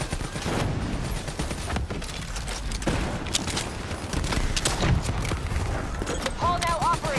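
Rapid gunfire from a co-op campaign battle in the video game Black Ops 3, dense bursts of shots and explosions under shouted game dialogue.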